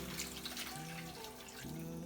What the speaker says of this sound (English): Next we gotta add in some water.